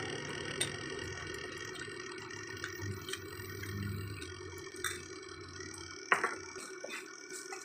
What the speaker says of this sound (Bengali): দেখুন অল্প জল দিয়ে গুলে নিচ্ছি আমি